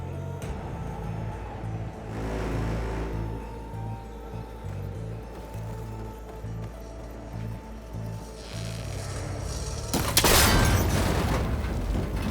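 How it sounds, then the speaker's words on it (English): A shot breaks a cable connector in Horizon Forbidden West, heard as a loud burst near the ten-second mark that rises above a steady game soundscape of low rumbling and music. "That connector's holding the cables together. It should break if I shoot it."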